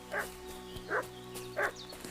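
A dog in the video game Kingdom Come: Deliverance 2 barks three times at an even pace, moderately distant, over a steady background drone.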